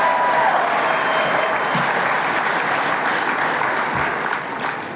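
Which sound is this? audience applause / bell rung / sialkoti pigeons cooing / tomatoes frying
audience applause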